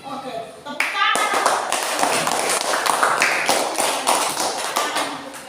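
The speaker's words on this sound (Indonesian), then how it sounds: "Oke, tepuk tangan." A primary school class claps hands together after a poetry reading, a dense, sustained burst of clapping that starts abruptly and continues for several seconds, with a teacher's voice heard briefly before it.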